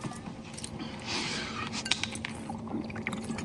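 Water is poured into a glass in a quiet indoor film scene: a soft, continuous trickling pour with light glassy clinks, heard close and alone.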